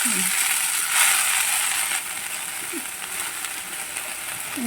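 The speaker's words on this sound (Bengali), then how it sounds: "নোটে শাক ভাজা হবে" Note greens (amaranth leaves) with chopped chilli frying in a pan, a steady loud broadband sizzle throughout with a few faint clinks from a utensil.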